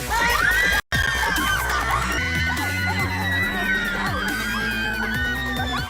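Bystanders at a street magic show gasp and scream loudly in a sustained crowd roar with high shrieks throughout, briefly cut by a short silent gap near the start.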